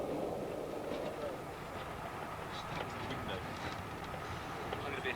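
A continuous train rumble rolls along the rails with faint rhythmic clatter, steady and enclosed, as if heard from inside a carriage.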